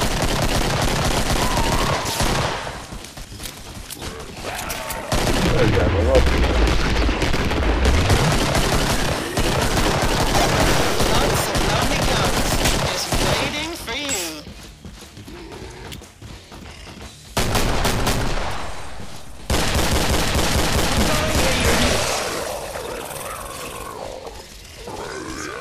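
Gunfire in the video game Killing Floor comes as dense bursts of rapid shots against zombie growls and roars, loud and chaotic, broken by brief quieter gaps.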